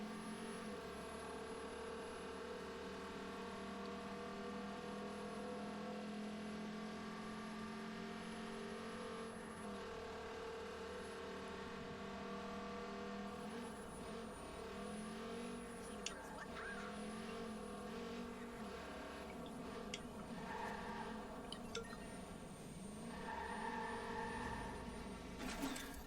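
A Trans Am's engine drones steadily in the video game Watch Dogs 2, a continuous moderate car hum with slight shifts in pitch and a few faint clicks, sustained for the whole stretch without speech.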